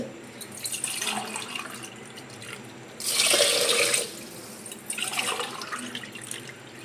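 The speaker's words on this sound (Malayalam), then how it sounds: "ഇതിന് വേവിക്കേണ്ട വെള്ളമാണ് ഞാൻ ഇതാ ഒഴിക്കണത്" Water is poured into a cooking pot, running and splashing in bursts, loudest in a strong pour midway, with quieter trickling before and after.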